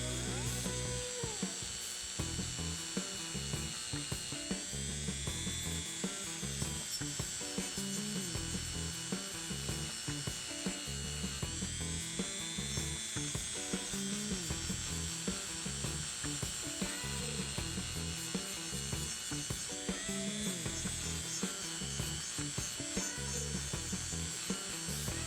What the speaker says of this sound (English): I'll just use a Scotch-Brite wheel on my Dremel tool to clean up the surface